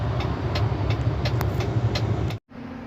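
A Mercedes-Benz Actros truck with a gearshift fault and a suspected clutch booster problem revs hard without taking a gear, a loud, steady, rough engine roar that cuts out abruptly near the end before settling to a lower idle hum.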